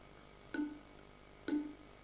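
An air-filled tube is struck twice about a second apart, and each hit rings with a short hollow resonant tone that dies away fast. The sound is close but faint, with no talk over it.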